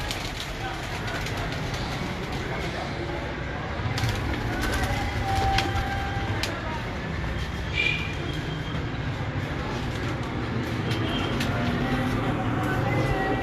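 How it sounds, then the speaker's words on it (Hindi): Teddy pigeons coo softly within a dense, steady wash of background noise. Someone talks throughout over the birds. "अब नेक्स्ट जो है इनके टैडी कबूतर आ रहे हैं"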